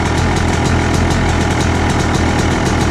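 A 2006 Yamaha YZ125 two-stroke dirt bike engine idles steadily up close, a continuous buzzing rumble with a fast, even pulse and no voices.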